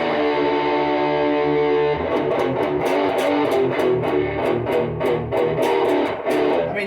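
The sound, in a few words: electric guitar through Hotone Eagle's Heart distortion pedal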